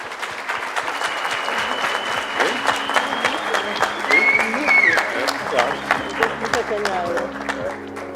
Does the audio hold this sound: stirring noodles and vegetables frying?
no